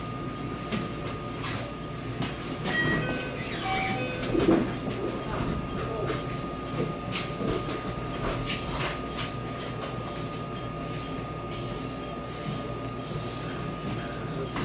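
A local train on the Wakayama Line heading toward Wakayama, heard from inside the carriage: a steady running rumble with rail clatter and a few faint high squeals, with no one talking.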